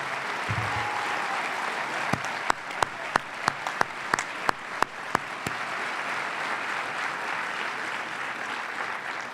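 An inauguration audience applauds steadily throughout, with a run of sharper individual claps standing out near the middle.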